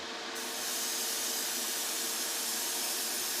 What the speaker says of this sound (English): I'm just going to put my extractor on, and then we're going to give this little tank a good coat of it.